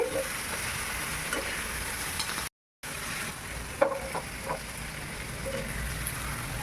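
Small fish frying in a pan, stirred gently so they don't break apart, giving a soft steady sizzle with faint scraping and a few light clinks, quiet and continuous with no speech.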